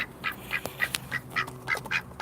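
A duck by a pond quacks in a quick series of about eight short, nasal calls at a steady rhythm, moderately close, with faint outdoor background and no talking.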